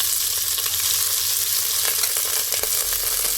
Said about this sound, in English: And now I'm going to add onion and green chilies